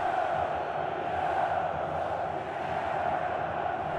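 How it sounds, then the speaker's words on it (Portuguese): Atlético Mineiro supporters in a packed stadium at the 2014 Copa do Brasil final roar a steady, sustained championship chant, a dense wall of crowd voices with no break. "Torcida do Atlético solta o grito de campeão já"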